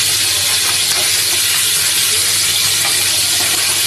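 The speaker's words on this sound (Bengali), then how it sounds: "শিং মাছ আর ডাঁটা আলু দিয়ে ঝোল রান্না করার জন্য শিং মাছটা আমি আগে থেকে ভেজে নিচ্ছি।" Stinging catfish (shing fish) fries in a pan of hot oil with a loud, close, constant hissing sizzle that stays steady throughout.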